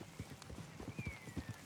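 Horse hooves clip-clop in a quick uneven gallop rhythm across ground in the video game Red Dead Redemption 2, close and distinct, with a faint thin whistling tone drifting across the middle.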